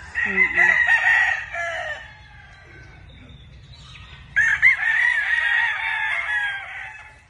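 A rooster crows loudly twice with a pause between, over a quiet background of soft hen clucking.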